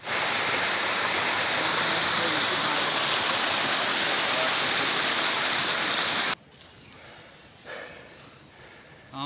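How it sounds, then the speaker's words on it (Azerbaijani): A waterfall on a mountain path roars as a loud, dense, continuous rush for about six seconds, then cuts to a much quieter background. "Bu yolumuzun üstündəki 3-cü şəlalə idi"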